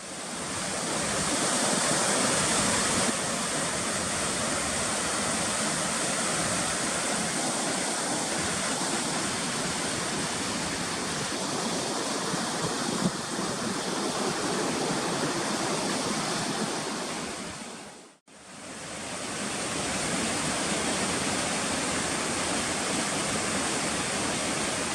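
Glacier Creek rushes steadily beneath a bridge on a mountain trail in Rocky Mountain National Park at about 9,740 feet. The water makes a loud, continuous broadband roar that briefly dips near the end.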